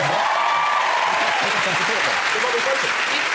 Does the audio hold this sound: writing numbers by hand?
no